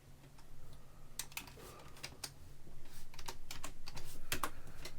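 Typing on a computer keyboard, a steady run of close, crisp key clicks in irregular bursts over a low constant hum, with no talking.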